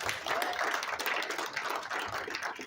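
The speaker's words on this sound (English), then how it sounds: "Everyone give her a round of applause" A round of applause from the audience at a college political group's inauguration event, steady crowd clapping filling the short stretch at moderate volume with no voices on top.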